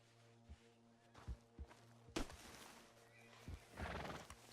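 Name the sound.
horse whinnying in video game Red Dead Redemption 2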